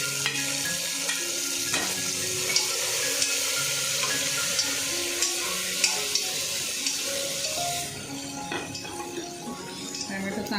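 Tomatoes frying in oil with browned onions and chopped green chillies, a steady close sizzle with occasional stirring scrapes throughout, under a voice talking for part of the time.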